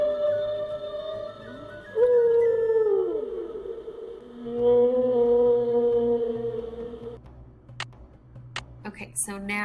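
A humpback whale call from a Nancy Drew video game: long, gliding moaning tones that rise and fall in pitch, loud and resonant, followed by a few clicking taps near the end.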